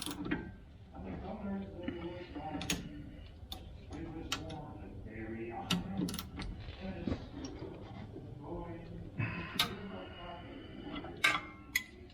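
Ratchet wrench clicking in a steady tick-tock rhythm while a brake caliper bolt is tightened on a 2015 GMC Sierra Z71's rear brakes; close, moderate mechanical ticks with occasional louder clicks.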